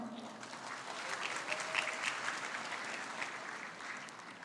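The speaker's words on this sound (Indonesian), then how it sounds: "Tepuk tangan" Continuous applause from an audience at a lecture, a broad even wash of clapping that stays faint and distant throughout.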